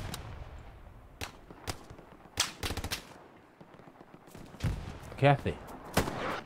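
Gunfire in an online shooter video game: scattered sharp shots, some single and some in quick clusters, mostly at a middle distance with quiet gaps between, while someone talks briefly in Spanish.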